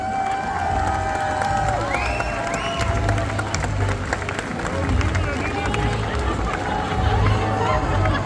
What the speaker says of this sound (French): avec un tonnerre d'applaudissements